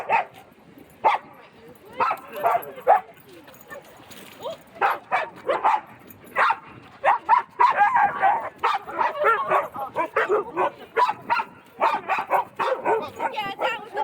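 Dog at a dog park letting out short barks and yips in irregular bursts, fairly close, with people talking in between.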